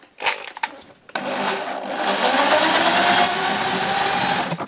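A 4 mm cobalt bit drills into metal on a Ford car door: a few sharp knocks, then a sustained, fairly loud whirring grind for several seconds that stops abruptly.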